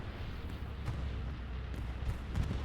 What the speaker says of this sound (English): Defensive artillery